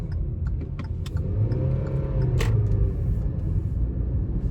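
A car engine rumbles and revs close by, with a low throbbing drone that swells and eases over several seconds. A few clicks and a brief sharp noise cut through it, and nobody speaks.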